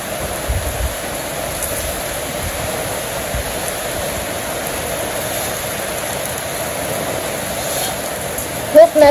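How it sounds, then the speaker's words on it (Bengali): Steady rain falls over rural farm fields, a dense continuous hiss that holds even throughout, with a couple of brief louder knocks near the end. "বৃষ্টি নেমে পড়ছে"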